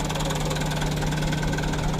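A car engine idles steadily and close up during a tuning test on a new car with a bad jerking fault, a continuous even mechanical hum with no speech.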